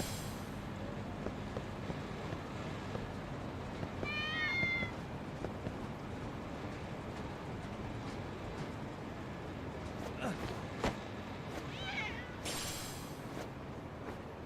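Cats meow in the video game Lost Judgment, with a couple of short rising mews over a steady bed of wind and ambient noise, and a voice talks during the clip.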